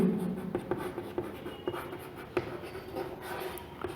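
Pen or chalk writing out a word during a Class 10 maths lesson, heard as a run of short scratchy strokes and taps at a quick, uneven rhythm over a low background hum.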